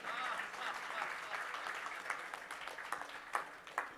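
Audience applause breaks out in a hall during a community talk, a steady wash of clapping with a few sharper claps rising toward the end, fairly close and continuous.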